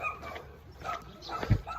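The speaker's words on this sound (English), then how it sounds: "And more dogs." Dogs bark and yip along a rural Transylvanian walking route in Romania. The calls are distant and intermittent, with one sharper, closer bark near the end over faint outdoor background.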